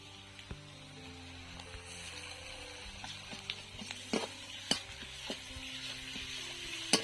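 Ginger-garlic paste fries with onions in a pan for Bengali chicken posto, a soft sizzle under repeated sharp spatula scrapes and taps on metal, growing busier toward the end, with no speech.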